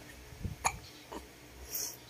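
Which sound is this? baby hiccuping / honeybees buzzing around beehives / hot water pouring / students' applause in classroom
baby hiccuping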